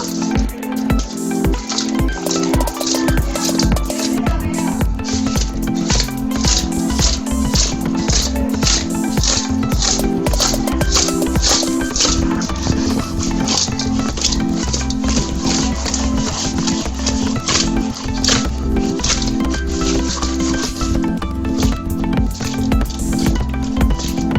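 Fish pieces being mixed by hand with turmeric powder and salt, giving continuous wet squishing and slapping sounds in a steady irregular rhythm, close and fairly loud, with a faint background hum.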